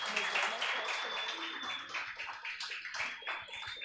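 A church congregation at a children's day service claps in steady, dense applause, the crackling of many hands holding at a moderate, even level for a few seconds, with a faint steady tone beneath.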